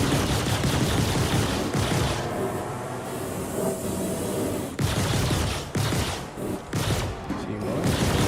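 Rapid bursts of gunfire from small ships in the space game Star Citizen, loud and dense volleys with brief pauses around the two and five second marks, continuing throughout.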